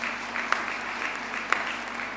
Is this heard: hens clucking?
no